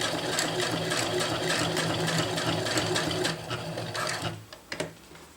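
Sewing machine stitching a water bottle carrier, a fast steady mechanical whir of needle strokes that stops near the end, followed by a few clicks and handling knocks, close with no talking.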